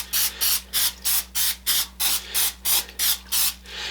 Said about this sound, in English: I'm going to go ahead and just spray this down really well,